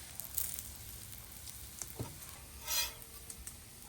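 Burger buns toast in bacon grease on a flat griddle, giving a soft, steady, quiet sizzle with small crackles and one brief louder hiss, without any voices.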